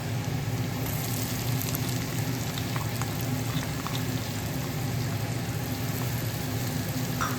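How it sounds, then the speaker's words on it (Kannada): Onions frying lightly in a pan for a boiled egg masala: a dense, constant sizzle with faint crackles, heard close and steady throughout without any talking. "ಲೈಟ್ ಆದ ಫ್ರೈ ಮಾಡ್ತೀನಿ. ನೆಕ್ಸ್ಟ್ ಆನಿಯನ್ ಮಾಡ್ತೀನಿ."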